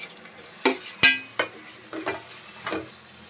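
Chopped tomato and garlic go into a frying pan with fried onion and turmeric for a fish curry: a few sharp utensil clinks and scrapes over a faint, steady sizzle, close up, with no talking.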